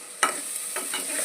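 Freshly ground ginger garlic paste frying for biryani hisses steadily in a pan, with one sharp scrape of stirring near the start and softer scrapes after it.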